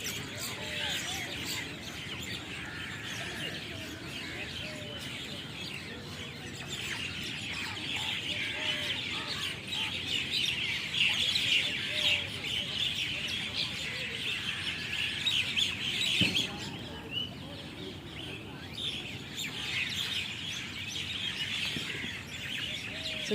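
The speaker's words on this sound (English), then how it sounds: "A lot of starlings here." Hundreds of starlings and some pigeons settle into a huge tree at dusk, a dense, continuous din of chirps and calls that rises and falls for the whole stretch while a person talks now and then.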